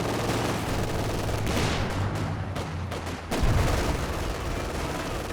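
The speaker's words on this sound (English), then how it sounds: "lobbing out the base howitzers here" Base howitzers fire artillery in the Company of Heroes 2 strategy game, heavy booms and rumbling blasts over a dense battlefield din, with a sharp low thump about two-thirds of the way through.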